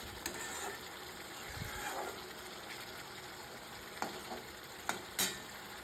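Tomato sauce and sour curd stir-frying in a pan for an egg curry, a steady close sizzle with a few sharp spatula scrapes near the end, no talking.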